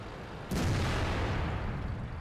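A single loud tank cannon blast in World of Tanks bursts in suddenly, followed by a sustained rumbling roar that slowly fades.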